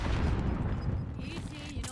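Gunfire in the Warzone video game crackles in a quick cluster of muffled shots under background game noise, fading in the second half, with no voices over it.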